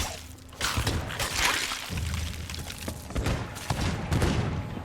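Rapid gunfire from several enemies in a video game, a dense continuous burst of shots and crackling impacts lasting several seconds.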